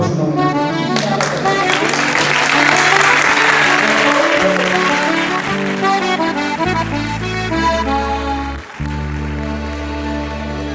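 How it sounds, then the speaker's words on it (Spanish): Sustained applause from an audience at a retirees' tribute ceremony blends with music playing, the clapping strongest early on before low sustained tones take over toward the end. "nos reconocemos entre nosotros y nos aplaudimos"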